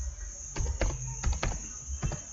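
Fingers type a password on a computer keyboard, a short run of close, distinct key clicks in an uneven rhythm, about half a dozen presses over a couple of seconds.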